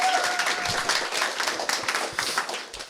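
A comedy club audience at an English-language stand-up show claps and cheers for a performer, a dense, moderately loud burst of applause that fades slightly toward the end, with a faint voice mixed in.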